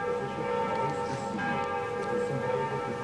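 Bells of Notre Dame cathedral in Paris ringing, a sustained resonant peal with rich overlapping tones and lingering hum, steady and fairly loud, with no voices.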